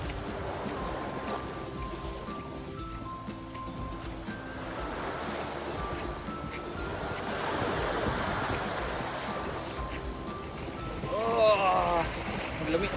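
Ocean waves wash on a beach in a steady surf roar with some wind noise, while people talk over it.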